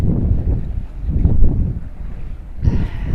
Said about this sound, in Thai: ลมแรงมากเลยเพื่อนๆ ได้ยินไหมเนี่ย